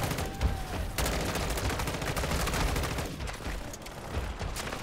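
Rapid dense bursts of turret gunfire in a shooter video game, loud and continuous for the whole stretch with no talking.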